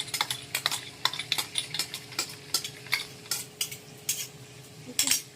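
A spoon scrapes and clinks repeatedly against a frying pan while stirring a dal and chilli mixture, the rhythmic metallic taps close and clear, with no voices.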